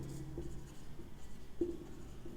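Chalk or a marker scratches across a board while a definition is written, producing soft, intermittent strokes with a couple of sharper taps, fairly quiet in a room.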